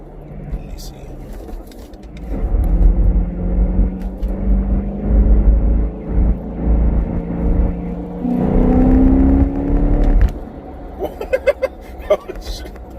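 A BMW E92 M3 running E85 flex fuel pulls hard in fourth gear, the engine note rising steadily from inside the cabin into a loud climbing rev, then easing off, while the occupants talk excitedly throughout.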